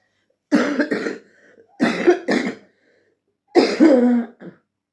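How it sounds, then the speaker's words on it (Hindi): A person coughs in three close bursts, each a pair of harsh, hacking coughs separated by short pauses, near and fairly loud. "बात नहीं हो रही, खांसी हो रही"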